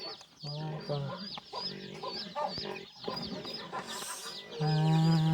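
Chickens cluck and squawk on a rural Thai farm, the calls overlapping near the microphone in a busy, uneven chorus, with a louder drawn-out call near the end and a person talking among the birds.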